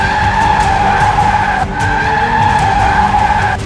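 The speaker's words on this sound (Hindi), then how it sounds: "कार चला रहे शख्स ने तेजी से गाड़ी आगे बढ़ा दी" A car surging forward sharply at a building gate in the Oshiwara area, caught on CCTV, its engine holding a loud steady tonal whine with a skidding, tire-squeal edge throughout, no speech.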